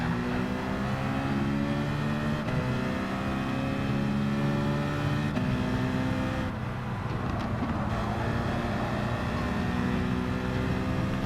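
A racing car engine in a sim racing game at Watkins Glen's long course drones loud and steady, its pitch rising and dipping as the throttle is feathered through gear changes, with no voices.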